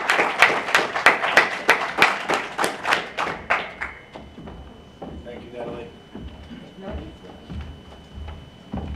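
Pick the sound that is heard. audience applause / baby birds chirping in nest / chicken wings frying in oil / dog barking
audience applause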